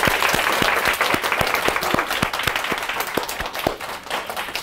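Sustained audience applause at a Korean lecture, a dense, even wash of many hands clapping throughout, with a few sharper individual claps standing out.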